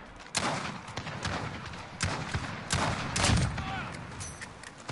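Sniper rifles fire repeatedly in a Portuguese-language 2v2 multiplayer shooter match, sharp close shots landing every half-second or so over steady battle noise, with a voice talking over the gunfire.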